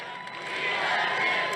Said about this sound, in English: Quite a crowd, huh?